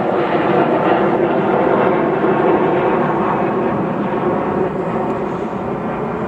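An Alaska Airlines airplane passes overhead as a steady, loud, broadband roar over a garden, sustained and gradually easing off.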